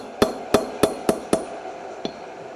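Hand-held metal tool struck with a hammer to stamp patterns by hand, five sharp, evenly spaced close blows followed by a pause and one lighter tap, with no talk.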